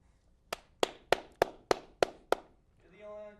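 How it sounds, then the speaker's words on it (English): A single person claps seven times in a steady rhythm, each clap sharp, close and fairly loud, with a voice starting right after the last clap. "You're the only one clapping."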